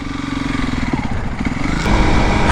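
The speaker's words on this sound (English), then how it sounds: "I'm literally riding my motorcycle in the tundra" A Honda CRF 300L motorcycle ridden across alpine tundra in Rocky Mountain National Park gives a steady, close engine drone that rises and revs harder near the end.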